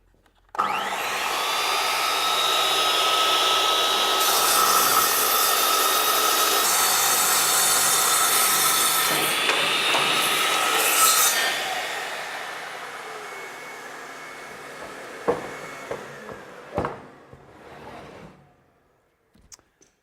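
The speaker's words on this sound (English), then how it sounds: "we'll be ready to make a cut, and again using this like a big sliding miter saw" A panel saw, used like a big sliding miter saw, cuts through an ACM panel with a loud, steady whine lasting about ten seconds, then spins down into a few sharp clicks and knocks before falling quiet.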